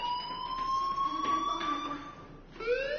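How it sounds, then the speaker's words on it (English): School fire alarm in the video game Life is Strange, a steady electronic tone rising slightly in pitch over a faint murmur of background noise, then cutting out and restarting near the end. "Hey, do you hear that fire alarm? That means you should be outside."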